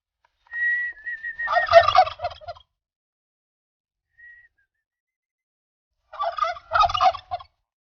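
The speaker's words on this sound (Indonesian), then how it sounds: "jenis dari kalkun itu sendiri ada dua" Turkeys gobble in two loud rattling bursts, each preceded by a whistling note, separated by a few seconds of near silence and a faint chirp, fairly close and alone.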